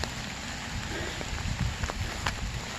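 Steady rain falls across an old rural cemetery in Charlotte, Vermont, a dense, even patter with scattered louder drops striking close by, with no voices.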